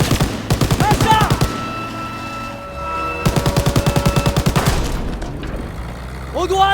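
Bursts of machine-gun fire in Call of Duty WW2 during a train assault, two long rattling volleys separated by a short lull, loud and close, mixed with game music and shouting voices.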